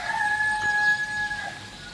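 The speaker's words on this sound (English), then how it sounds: "roosters are funny" A rooster crows early in the morning, one sustained, fairly distant call with a steady harmonic tone lasting most of the moment, set against faint outdoor ambience along a long-distance cycle tour.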